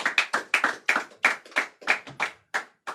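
Sparse, uneven hand claps from a small audience at a school oratory competition, about a dozen distinct sharp claps spread over a few seconds with gaps between them.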